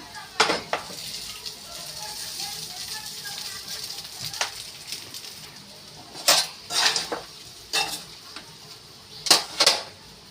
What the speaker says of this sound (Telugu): ఇప్పుడు పొడిగా చేసుకున్న అన్నాన్ని కలుపుతున్నా